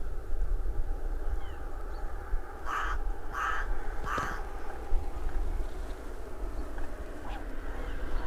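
A crow caws three times in quick succession on a sheep farm, a short distance off, over a steady low outdoor rumble with no talk.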